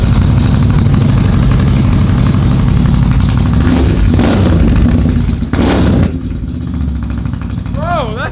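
A loud ATV engine with a full exhaust system rumbles and revs with a deep, throaty exhaust note, running steadily throughout.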